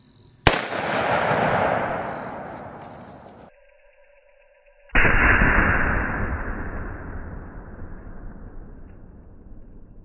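Two loud, sharp gunshots from a Smith and Wesson Model 29 .44 Magnum revolver fired double action, each a heavy blast with a long echoing decay, spaced a few seconds apart.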